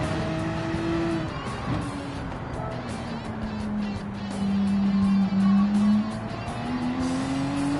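Ferrari race car in a racing video game, its engine droning steadily with pitch swells as it accelerates and shifts, with faint tire noise, loud and continuous throughout.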